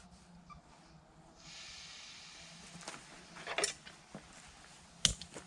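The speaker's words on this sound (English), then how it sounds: "I'm using my little sort of 12-pound stove here with the push fit adapter to cook on." A small camping gas stove with a push-fit adapter, used at a wild camp in a UK woodland, hisses steadily after being turned on, a faint close rush of gas with a few clicks and knocks nearby.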